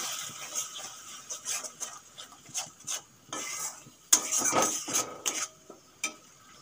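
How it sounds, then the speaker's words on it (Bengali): Tomato and cashew paste going into a pan and being stirred, with a series of close scraping and clinking spoon strokes against metal in an irregular rhythm and a faint sizzle underneath. "এখন দিয়ে দেবো টমেটো আর কাজু বাদাম পেস্ট।"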